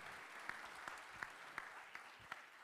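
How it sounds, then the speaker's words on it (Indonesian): Audience applause at a university event, steady and moderately distant, with a few sharper claps standing out at regular intervals. "Kasih tepuk tangan yang meriah."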